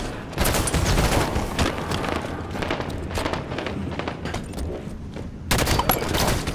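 Sustained rapid gunfire from a SWAT match in Halo 5: Guardians, dense loud bursts running almost continuously with a fresh heavy volley near the end, including a headshot kill.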